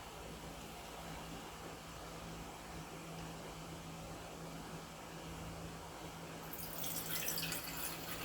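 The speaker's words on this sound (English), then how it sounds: "I'll pour my solution in here." Solution poured into a clean beaker during gold refining and recovery, a soft, steady liquid wash over a faint constant hum that grows slightly brighter near the end.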